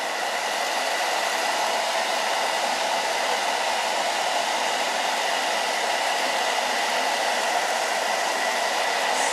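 A blow dryer runs steadily, drying E6000 glue on a white decoupage pumpkin; a continuous, loud, even whoosh of air with no pauses and no voices.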